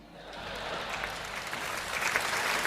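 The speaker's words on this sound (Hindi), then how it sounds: "और अब आपकी तालियां उठेंगी" Audience applause at a Hindi comedy poetry show, a dense steady clapping from a large crowd that swells slightly and holds throughout.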